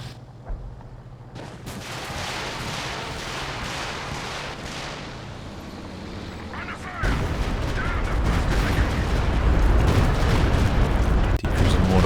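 Sustained artillery and mortar fire rumbles through a Company of Heroes 2 battle, a dense wash of distant booms and blasts growing heavier and louder in the second half, with a few sharper cracks on top.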